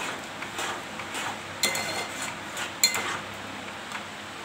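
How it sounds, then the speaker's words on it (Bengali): A spoon stirs a coconut mixture with ghee and butter in a pan, a steady soft scraping with occasional sharp metallic clinks against the pan. "এবার নাড়ব।"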